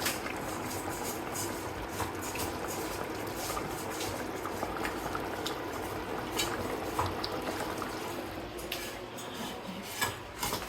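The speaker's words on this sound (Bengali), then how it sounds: "লাউ রান্না হচ্ছে এদিকে" A pot of bottle gourd curry simmers with a steady, moderately loud bubbling and gurgling throughout, dotted with small pops and clicks. There is no speech.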